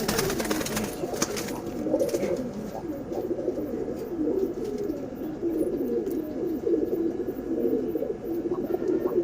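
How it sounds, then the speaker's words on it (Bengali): Pigeons coo in a steady, overlapping low murmur that continues throughout, near and moderately loud, with some faint rustling and no talk. "এখানে আরেকটা কবুতর আছে"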